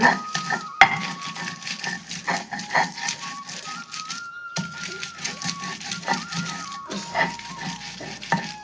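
A mixer grinder grinds a coriander and garlic chutney with a rattling whir and a steady motor whine, stopping briefly and restarting, with clattering from the jar throughout.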